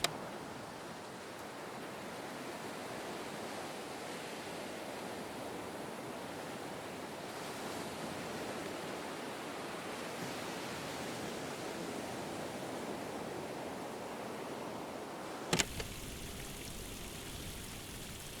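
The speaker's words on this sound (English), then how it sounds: "It looks like a little spring is bubbling up from the top of this hill." A small spring of clear water bubbling up at the top of a hill and trickling down among trees, giving a steady, soft, broadband wash of flowing water with one brief knock near the end.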